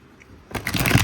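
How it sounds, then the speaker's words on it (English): Tarot cards are shuffled in quick riffling flutters, close and alone after a quiet start. "Let me shuffle these cards."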